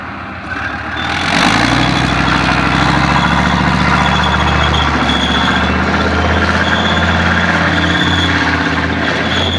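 A Leopard tank's heavy engine revs up from a quieter start, then runs loud and steady with a deep low rumble and throbbing drone, close by, with no voices.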